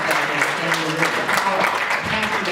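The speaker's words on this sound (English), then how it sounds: "Give her a round of applause" Applause at a high school talent show: a dense, even roar of many people clapping, loud and sustained throughout, with murmuring voices mixed underneath.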